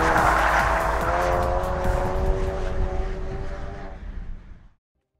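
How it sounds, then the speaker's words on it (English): Ford Focus RS driven hard along Blakey Ridge in North Yorkshire: a loud, close, sustained engine note with strong harmonics and some tyre noise, holding steady before fading out and cutting to silence near the end. "So this is what happens when a Focus RS meets one of the best circuits"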